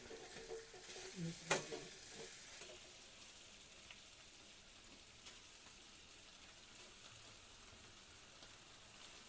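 Boiled potatoes and onions are sautéed and stirred in a pan, giving a faint, low sizzle broken by scattered small scraping clicks from the spoon.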